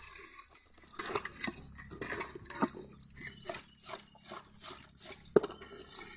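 Raw fish being rubbed and turned by hand with salt and lemon juice to clean it, giving soft wet squelching and scraping with occasional clinks of a bowl or pan, fairly close and moderately loud, with no talking.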